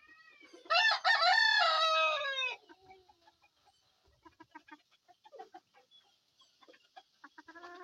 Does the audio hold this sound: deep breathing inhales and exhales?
no